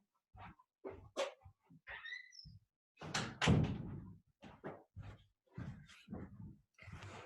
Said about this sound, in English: I'm just going to shut this door for a second.